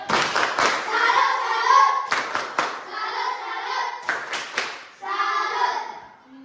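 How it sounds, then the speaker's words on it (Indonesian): Schoolchildren in a primary classroom clap a patterned salute, several quick bursts of close, loud hand claps in rhythmic groups separated by short pauses. "Kasih tepuk salut untuk Joniper."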